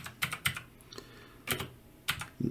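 Close computer keyboard typing while naming a region in Reaper audio software, a few short bursts of clicky keystrokes separated by brief pauses.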